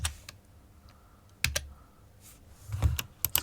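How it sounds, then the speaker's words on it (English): Password typed on a computer keyboard, a few short clusters of key clicks close by with pauses between them, quiet and without talk. "Type in your password."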